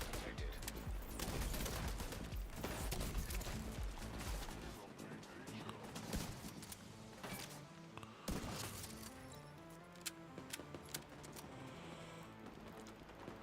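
Turrets fire in The Division 2 in a dense, chaotic barrage of rapid gunfire with sharp cracks and shattering hits, loud throughout and thinning toward the end. A voice talks faintly underneath.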